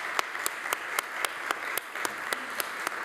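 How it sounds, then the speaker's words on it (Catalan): Lecture-hall audience claps steadily and evenly throughout, a moderate wash of applause with sharper individual claps standing out at regular intervals, with no talking. "Ja en teníem ganes que ressonés un aplaudiment en aquesta sala"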